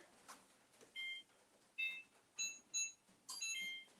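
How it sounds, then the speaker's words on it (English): An oven timer being set gives a series of short electronic beeps, about six spaced irregularly over a few seconds, faint and close against a quiet kitchen background. "Let's do the timer."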